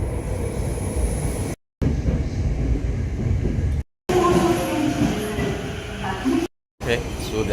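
Train noise at Nakano station in Tokyo: a rumbling carriage and platform din with people talking, broken by several brief silent cuts.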